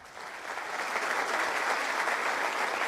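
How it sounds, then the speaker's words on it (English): Sustained applause from a crowd, steady clapping that swells slightly in the first half second and then holds at an even level throughout. "Round of applause for Michael."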